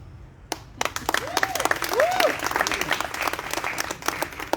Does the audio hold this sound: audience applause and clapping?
yes